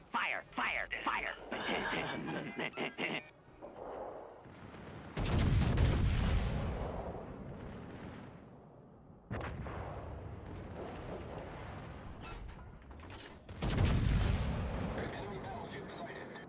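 Naval cannons boom in World of Warships Legends, several heavy blasts landing in separate bursts with long rumbling tails that fade between volleys, loud and close, while a voice talks over the gunfire.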